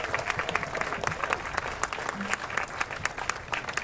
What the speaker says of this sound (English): let's give this fantastic, but obviously tired, crew a nice round of applause